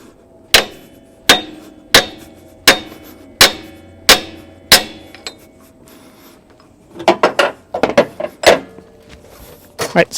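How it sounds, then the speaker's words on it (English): A hammer strikes the clutch of a GM OBS truck AC compressor in a workshop, with seven sharp metallic whacks evenly spaced, a pause, then a quicker cluster of lighter clanks. "Just give it a couple more whacks on the bottom."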